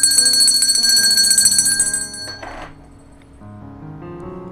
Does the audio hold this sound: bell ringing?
yes